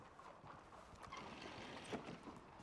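A horse or mule in a game whinnies while hooves clop steadily, a busy, faint scene of repeated thuds under a drawn-out neigh.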